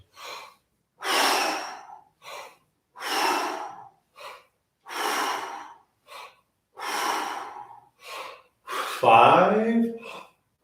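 A person exhales heavily during breath squats, a series of loud, breathy pushes in a steady rhythm with shorter inhales between, ending in a voiced gasp-like breath.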